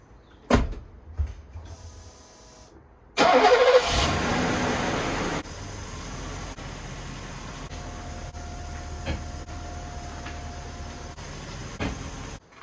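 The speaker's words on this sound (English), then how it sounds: "we just started the engine" A Mercedes-Benz 500 SE W126 during an oil and air filter change: a couple of close thumps, then the engine cranks and fires with a brief rev and settles into a steady idle.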